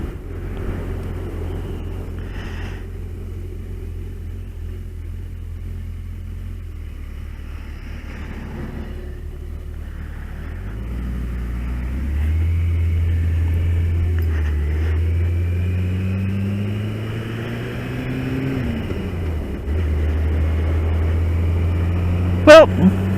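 A car drives along on a road, its engine rumbling low and steady with the engine tone rising and falling through several gear changes, growing louder toward the end.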